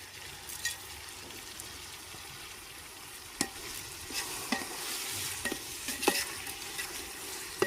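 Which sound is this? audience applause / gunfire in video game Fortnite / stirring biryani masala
stirring biryani masala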